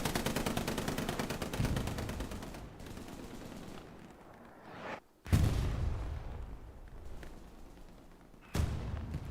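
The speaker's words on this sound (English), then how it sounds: "Got your machine gun." Rapid machine gun bursts in a first-person shooter match, dense rattling volleys that stop and restart abruptly several times, loud and close with echoing tails.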